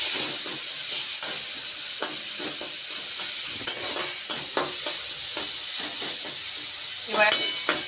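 Masala frying on a low flame in a pan after a little water is added, for an egg yolk curry, giving a steady close sizzle and hiss with repeated scraping stirs and clicks of the spoon.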